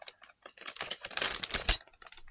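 Small metal Allen keys from a hobby model kit clatter and jingle as they are handled, a quick run of light close clinks and taps with no talking.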